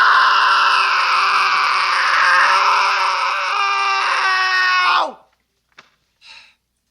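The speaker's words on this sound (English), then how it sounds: "Chainsaw lets out a tension-breaking scream and the test begins." A cartoon character lets out a long, loud, sustained scream lasting about five seconds before it cuts off abruptly, followed by a couple of faint short sounds in near silence.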